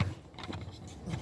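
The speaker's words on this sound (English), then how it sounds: "please excuse the truck noise." A truck passing outside gives a low engine rumble that rises and falls faintly in the background, with no voices over it.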